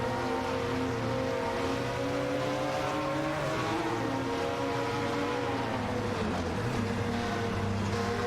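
Racing cars in a video game, including a Mazda 787B and a Nissan R90, roar continuously with rising and falling engine whines as they pass. The sound is dense and unbroken, with no talking.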